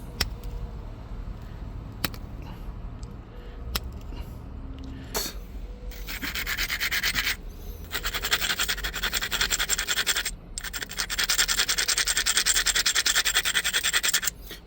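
A basalt arrowhead is knapped by hand, with a few crisp ticks of stone on stone followed by long, gritty scraping and rubbing strokes, close and fairly loud.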